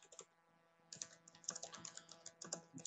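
Fast, light typing on a computer keyboard, nearby and fairly quiet, with a short burst of keystrokes, a brief pause, then a steady run of clicking keys.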